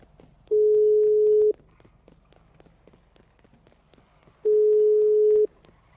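In the GTA 5 video game, a phone call to a switched-off phone plays two steady, evenly spaced electronic tone beeps, each about a second long, over quiet background noise.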